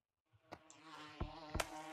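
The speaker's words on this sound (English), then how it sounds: "and then the bees will come to them" Bees buzzing around plants in the Gorilla Tag spring update, a faint, close insect drone with wavering pitch and a few sharp taps mixed in.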